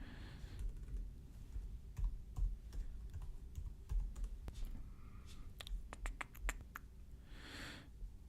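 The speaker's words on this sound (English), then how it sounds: "let's type in Quilter Aviator" Clicky keystrokes on a computer keyboard entering a guitar amp search, tapped in short irregular bursts close up, with no talking over them.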